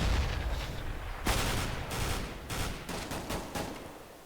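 Video game gunfire with several AK rifles and a Tec-9 firing, sharp cracking single shots and short bursts in irregular succession, fairly close and loud, with no talk.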